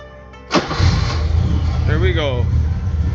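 A classic BMW E21, freshly fitted with a new battery, cranks briefly and then catches, settling into a loud, steady running engine note close by. A short rising whine is heard partway through.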